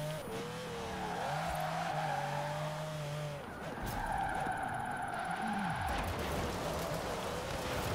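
Ferrari 599 drift car at a Formula Drift practice run, its engine roaring and shifting pitch continuously while tires squeal and skid, loud and sustained throughout with brief engine revs rising and falling.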